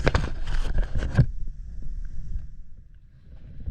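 Splashing water and rushing noise at first, then a low steady droning rumble continues as a motor boat travels across the sea toward Ando Island in the Philippines.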